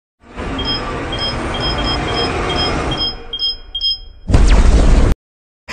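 An automatic bomb explodes in a film scene with a sudden loud, broadband blast that follows tense background score with beeping tones, cutting off abruptly after about a second.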